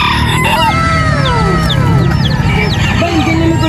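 Several roosters crow and hens cluck amid a dense, noisy crowd at a pet market in Angeles City, with constant background chatter and bustle all around.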